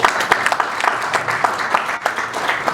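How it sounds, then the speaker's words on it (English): A conference audience at an eGovernment event gives a round of applause, many hands clapping in a dense, fairly loud burst, with sharper individual claps standing out, sustained throughout and briefly dipping near the end. "Give them all a round of applause"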